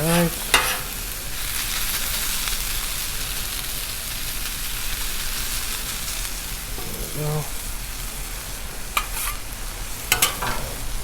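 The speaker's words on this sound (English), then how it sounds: "I'm gonna get these hash browns going right here" Hash browns frying on a Blackstone griddle make a continuous loud, close sizzle, with a few scrapes and clicks of a spatula at the start and near the end.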